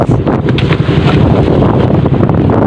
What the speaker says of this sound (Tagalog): So malakas ang amihan. Ayan ang lalaki ng alon.